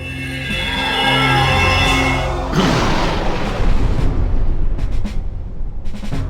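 A grenade ability goes off in the video game Septerra Core, a loud booming burst that swells and then rumbles into crackling debris for several seconds, with a steady game music bed before it.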